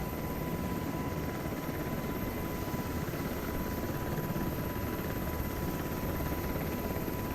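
A UH-60M Black Hawk helicopter flies and comes in to land, its rotor and engine giving a steady, dense rumbling drone with a constant whine, heard evenly and fairly loud from inside for the whole stretch.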